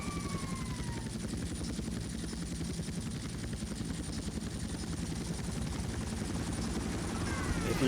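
Steady rotor thumping and turbine drone come from a helicopter flying in GTA Vice City, loud and continuous, with faint whistling tones sweeping past near the start and end and no voices.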